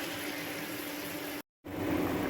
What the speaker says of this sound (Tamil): குழம்பு நல்லா கொதி வந்துருச்சு.